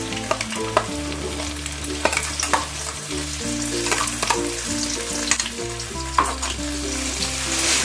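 Mustard-coconut paste fries steadily in a pan while being stirred, giving a continuous close sizzle broken by scraping and clinking from the spoon, with a low hum underneath throughout.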